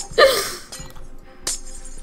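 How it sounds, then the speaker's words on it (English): Glass blocks shattering in a Minecraft Spleef match, a sharp crisp break near the start, then a quieter crack and another bright break later, with short gaps between. "I have more time to break glass on your side."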